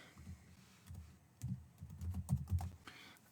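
A computer keyboard taps out a search term in a short, quiet burst of clustered keystrokes, close but soft, with a faint background hiss and no talking.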